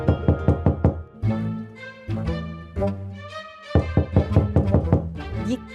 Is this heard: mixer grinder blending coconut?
no